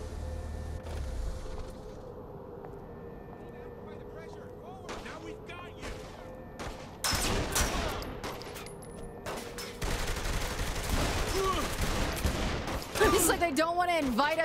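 Gunfire in Saints Row: The Third during an armory attack: a quiet ambient stretch, then scattered loud shots and bursts from about seven seconds on, growing denser and more chaotic toward the end.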